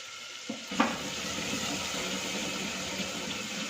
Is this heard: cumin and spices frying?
yes